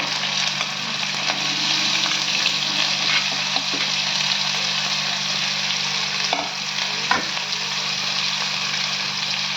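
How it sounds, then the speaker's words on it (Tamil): Onions frying in hot oil with cumin, fennel and black pepper: a loud, steady, close sizzle that carries on without a break, with faint stirring clicks and no voices. "பொரிஞ்சதும் வெங்காயம் போட்டுக்கோங்க"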